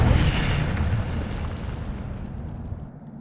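A booming fiery whoosh from the Incendio fire spell in the Hogwarts Legacy video game, loud at first and then fading into a rumbling crackle.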